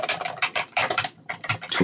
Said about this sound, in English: So we type something